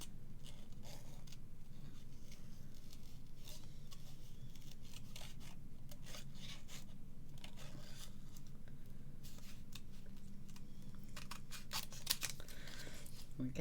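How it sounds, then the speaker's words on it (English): Scissors opening and closing through paper while crafting a birthday card, a run of soft, rhythmic snips and rustles, close and quiet, with some faint handling noise. "you just open and close your scissors and let you move the paper"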